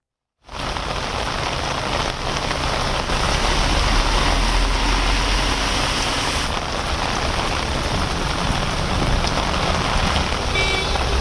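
Heavy rain pours steadily in Chennai amid cold wind and passing vehicles, a dense, loud, continuous hiss that starts abruptly and holds without pause, no voices.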